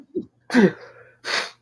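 A sudden sharp sneeze from someone with fall allergies, close and loud, a short intake then a forceful burst, followed by a brief breathy exhale.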